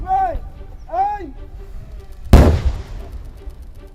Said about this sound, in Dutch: bij Oostburg is de 500-ponder tot ontploffing gebracht.